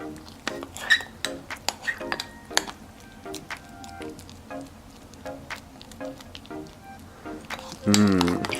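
Henna hair dye paste mixed in a bowl, with repeated clinking and scraping strokes of a utensil against the bowl, close and fairly quiet, plus a louder clatter near the end; a voice speaks at times.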